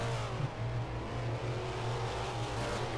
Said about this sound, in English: the last car to start qualifying, the generally inspired race car, making the way out onto the racetrack